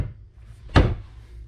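A cupboard door of a double-door pantry in a tiny house shuts with a single close, solid thunk, set against quiet room tone.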